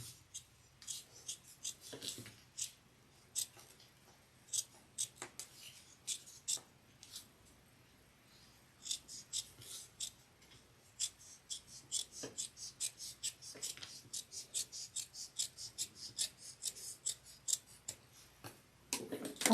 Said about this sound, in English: I'm trying to hold my scissors at an angle, so that way when I cut it, it acts like it's duckbill scissors.